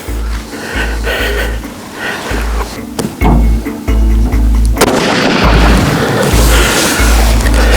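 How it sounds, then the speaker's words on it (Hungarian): Heavy booming shots from a .375 H&H caliber hunting rifle being sighted in at 50 meters on an African safari hunt ring out loud and close over steady rumbling background noise. "50 méterre fogjuk belőni a puskát, megnézzük, hogy működik."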